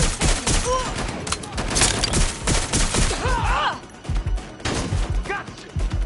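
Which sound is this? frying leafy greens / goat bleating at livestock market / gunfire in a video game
gunfire in a video game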